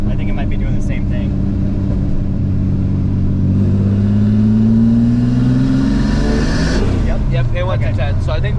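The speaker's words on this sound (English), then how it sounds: "Here, let's try third gear." Turbocharged 3800 car in a third gear pull, a loud in-cabin engine drone climbing steadily in pitch for several seconds before easing off as the gear ends.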